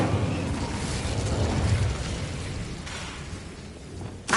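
Incendio fire spell cast in the video game Hogwarts Legacy, a dense burst of roaring flame that holds for a few seconds and fades, with a short sharp crackle at the end.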